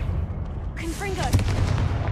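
A Confringo fire-blast spell in Hogwarts Legacy goes off as one sharp, booming burst right after a voice shouts, against a steady rumbling game backdrop.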